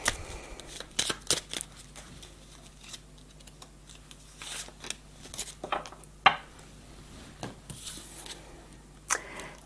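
Tarot cards shuffled by hand for a reading, giving soft irregular riffles and slaps with short bursts spread across the stretch, fairly quiet and close, with no talking.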